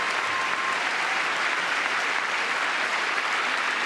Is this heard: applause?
yes